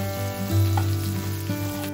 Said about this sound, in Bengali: আলু আর নারকেলটা একটু ভাজা ভাজা হতেই